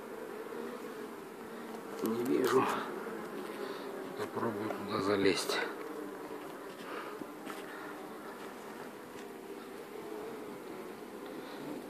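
Bees buzz steadily around a log hive with a possible problem, a continuous hum that swells now and then, while someone speaks nearby and footsteps sound.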